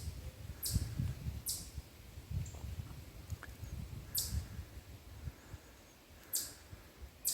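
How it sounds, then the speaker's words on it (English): A chipmunk chirps on a wooded uphill hiking trail, a few short sharp bird-like calls spaced apart over faint rustling and footsteps. "Chipmunk, loud like a bird."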